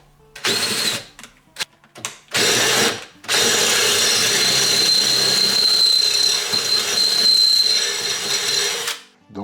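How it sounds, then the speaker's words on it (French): A power drill bores holes with a 13 mm bit and then a 14 mm bit in a workshop. Short separate bursts come first, then one long sustained whine of drilling with a high tonal squeal that ends abruptly. "un coup de mèche de 13, puis un coup de mèche de 14"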